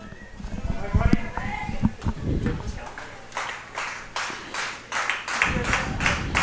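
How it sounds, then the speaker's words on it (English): Scattered applause from fans in the stands at a college baseball game between Piedmont and LaGrange, a light patter of clapping heard at a distance under a play-by-play announcer's voice. "Claps are coming all around from the LaGrange faithful"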